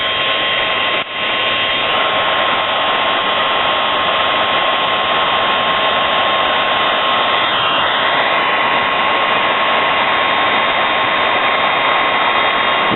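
A hot air plastic welder set high, around 950 degrees, melts a welding rod into a crack in a Cummins truck fender, making a loud, steady blower whoosh that runs without a break and with no talking.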